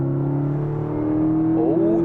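A Skoda Octavia vRS with a 220 hp petrol engine, switched into sport mode, hums steadily at a low engine note from inside the car, then the pitch starts climbing near the end as revs build.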